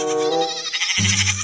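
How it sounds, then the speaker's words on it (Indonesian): A goat bleats in two quick wavering calls, close and clear, the second lower and rougher than the first, with no talk over it. "Di sini ada hewan kambing."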